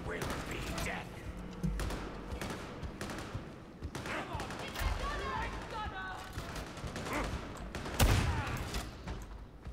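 Gunfire in the video game Darktide, repeated bursts and single shots with impacts, rapid and punchy, mixed with game effects and a voice talking.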